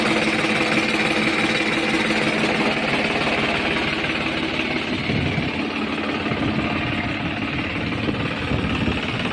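A New Holland 3630 tractor engine runs steadily close by, a continuous loud idling drone with a slight knocking rhythm and no one talking.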